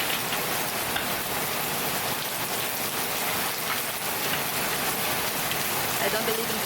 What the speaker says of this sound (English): is a rain sound